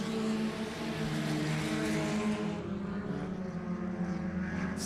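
Stock cars roar around the I-37 Speedway oval, a steady loud engine drone that holds throughout and shifts slightly in pitch as the cars pass.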